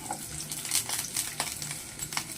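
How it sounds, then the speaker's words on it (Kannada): Onions and green chilies fry in hot oil for chicken bassaru, a soft sizzle broken by stirring scrapes and light clinks of a spoon against the pan. "ಎಲ್ಲವನ್ನು ಚೆನ್ನಾಗಿ ಫ್ರೈ ಮಾಡ್ಕೊಳ್ಳೋಣ."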